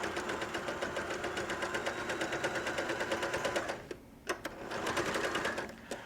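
A sewing machine stitching fabric for a potato bag, a fast even mechanical clatter running steadily, pausing briefly for a couple of clicks, then resuming up close.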